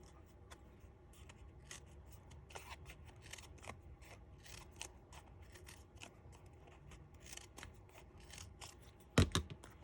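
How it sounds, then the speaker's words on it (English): Scissors snipping paper petals for a bunny magnet craft, a rapid irregular series of small crisp cuts, close and quiet, ending with a louder clunk, with no talking. "we're going to cut the other petals for the other bunny"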